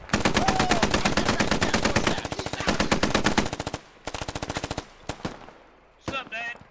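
Sustained automatic gunfire in the military shooter Squad, rapid loud bursts firing from a treeline for several seconds, then a pause and a few separate single shots near the end.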